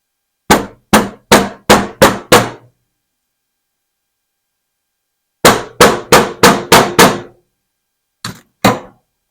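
A hammer strikes a leather knife sheath in quick series of sharp, close thunks: six rapid blows, a pause, six more, then two final knocks, loud and without talk.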